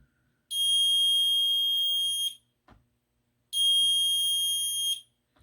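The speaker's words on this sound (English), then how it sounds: "A door is placed so that if it's open, the alarm will sound." Two long, loud electronic door security alarm tones triggered by a reed switch, each about two seconds, separated by a short pause with a faint click; piercing, high-pitched and steady.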